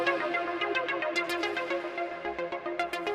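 A sci-fi synth preset called The Brain from the Massive Augmented collection plays a dense, buzzing, pulsing texture with rapid stuttering tones and occasional bright bursts, played alone without voices.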